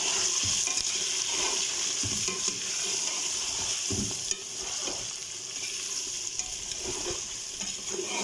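Chicken pieces frying loudly in a pan with browned onions, a steady dense sizzle throughout with soft stirring scrapes now and then, close and continuous.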